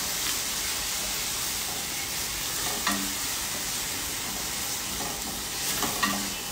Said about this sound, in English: So we are going to give this a nice mix.